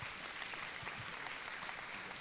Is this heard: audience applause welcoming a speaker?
yes